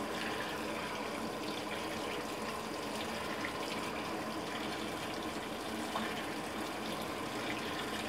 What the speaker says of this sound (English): So I would say this is the full rinse cycle that it's running.